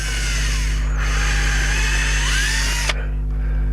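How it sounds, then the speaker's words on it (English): Power drill boring a small pilot hole straight down through a garden pot into timber underneath, a close, steady whine that runs for about three seconds and then cuts off abruptly, leaving a low hum. "I'm just going to drill straight down through the pot, a little pilot hole"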